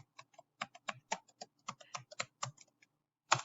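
Someone types on a computer keyboard, a quick irregular run of close, crisp key clicks with short pauses and a final harder keystroke.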